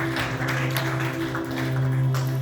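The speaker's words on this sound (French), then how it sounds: "Est-ce qu'on peut applaudir pour la parole de Dieu?" A church congregation applauds during a Sunday service in Portland, Maine: a steady, moderately loud wash of clapping that runs the whole length, over a low electrical hum.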